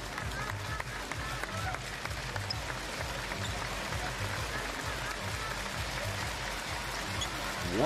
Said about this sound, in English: Dragonflies applaud their fans.